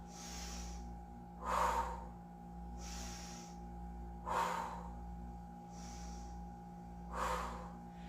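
Three strong, forceful exhalations during a total body interval workout, evenly spaced a few seconds apart, each followed by a softer inhale, heard close over a steady background hum.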